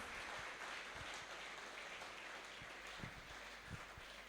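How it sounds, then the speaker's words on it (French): A church congregation claps steadily in applause, a broad, continuous wash of many hands with a few louder individual claps standing out, heard at a moderate distance and without voices on top. "Est-ce qu'on peut applaudir, acclamer pour la parole de Dieu?"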